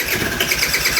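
A 2007 Vespa LX50 scooter with a crank, no-start fault, its starter cranking the engine in a brief, loud, continuous whirring burst that does not catch.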